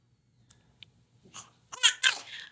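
A person sneezes during a chiropractic visit, sounding close and sharp after a few soft breaths, with the final burst loudest.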